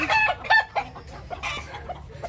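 Chickens cluck in several short, bright bursts at a breeding farm, fairly close and loud at first, then quieter overlapping calls continue over a low background rumble.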